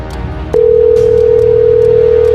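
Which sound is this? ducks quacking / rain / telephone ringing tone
telephone ringing tone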